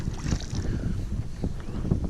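Wind blowing across a lake bay while fishing from a boat, a steady low rumbling buffet against the microphone with faint water sounds, no talking.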